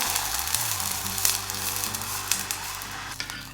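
Semi-dry wine and vermouth hitting a hot pan, a steady, close sizzle with a few crackles and pops throughout, while a low tone hums underneath.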